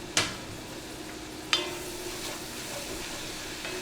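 Onions frying in a pan give a soft, steady sizzle at low volume, broken twice by sharp clinks of a utensil stirring against the pan.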